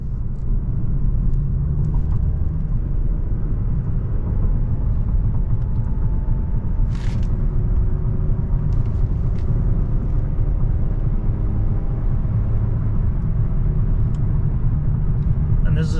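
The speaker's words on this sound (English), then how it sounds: "This is a concrete freeway, so it's a little bit bumpy." A 2018 Mazda3 Grand Touring drives along a bumpy concrete freeway, its cabin filled with a steady low road rumble and tire drone, with a few brief thumps from the joints.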